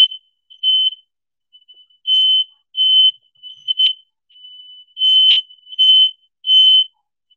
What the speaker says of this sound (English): Was that your smoke alarm?